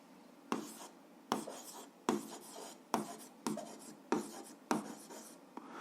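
A pen scratches out algebra notes in short, regular strokes, about eight quick bursts each starting with a sharp tap, close and fairly quiet with no talking.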